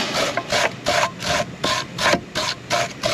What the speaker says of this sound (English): So all we do is we take a wire brush.